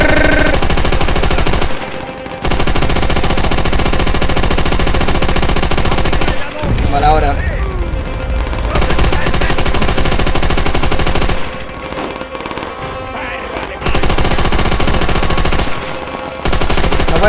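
Mounted machine gun turret in Call of Duty: World at War, set in Stalingrad, firing long loud sustained bursts with brief pauses between them, while someone speaks briefly over the gunfire.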